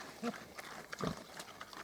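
A few soft, low grunts from pigs, short and scattered, heard faintly at a short distance.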